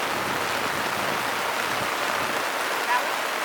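Steady rain hisses around a sailboat at sea, a constant even wash of droplets with no talk.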